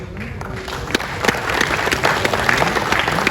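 Audience at a Gurjar community gathering in Delhi breaking into loud, sustained applause, dense clapping from a crowd that swells slightly over a few seconds.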